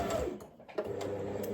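A sewing machine stitches along an ironed fabric hem with a quiet, rapid mechanical whir and ticking that briefly slows and dips before running steadily again.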